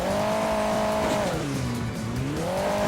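A car in the Hill Climb Racing 2 video game, in its Halloween event, accelerates with a continuous buzzing engine note that dips in pitch, then climbs again as the revs rise.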